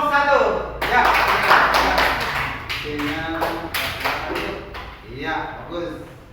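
Classroom applause for a student group in a lesson, a dense burst of many hands clapping close by, carrying on for several seconds with voices talking over it.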